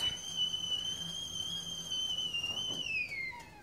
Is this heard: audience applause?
no